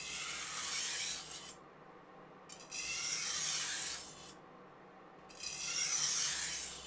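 A knife blade is stroked along a Parkside 400-grit sharpening stone, three long gritty rasping passes of over a second each, close and steady, with brief quiet pauses between strokes.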